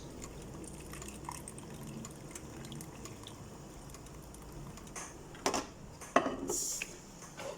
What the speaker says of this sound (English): I'm going to add some of the juice from the chickpeas